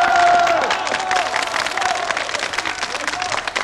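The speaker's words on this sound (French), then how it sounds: "J'avais dit des bravos, pas des acclamations, c'est beaucoup trop." A studio audience at a 1973 French television music show claps and cheers loudly and continuously, with shouts rising out of the dense, close applause.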